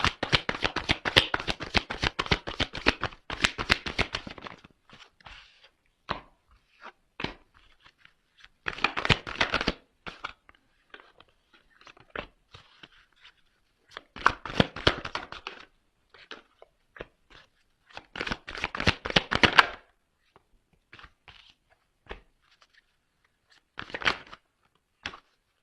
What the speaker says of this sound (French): je fais sauter les cartes devant vous